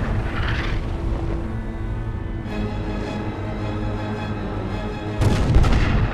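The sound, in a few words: battleship gun crew firing a final artillery salvo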